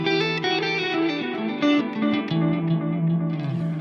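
An electric guitar through an effects pedal rings out with overly loud echoing repeats trailing each note, a dense ambient wash of delay and reverb sustaining loudly throughout.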